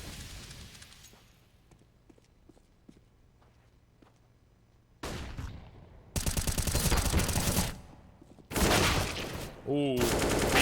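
Rapid gunfire in a Counter-Strike-style competitive shooter match, with dense automatic bursts and sharp pistol shots growing loud after a quieter stretch of faint footsteps and clicks, under a caster's talk.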